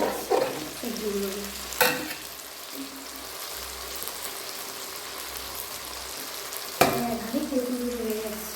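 Spices sauté beside vegetables being tipped into rice and lentils for a winter khichdi, a soft steady sizzle broken by two sharp scrapes or clatters of a spoon against the pan.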